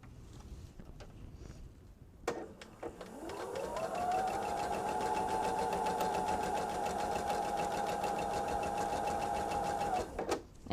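A sewing machine stitches fabric. The motor whirs up from rest into a steady, close, rapid mechanical hum with fast needle clatter, holds for several seconds, then winds down and stops.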